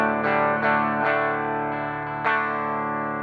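A Telecaster played through an overdrive pedal with its gain switch kicked on, giving sustained, saturated chords with a few restruck attacks, loud and steady with a chorus-like shimmer and no talking.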